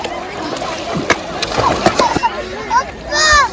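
Water splashes and sloshes in bursts as people play in a flowing river at Kallidaikurichi, Tamil Nadu, with voices and children's chatter mixed in close by.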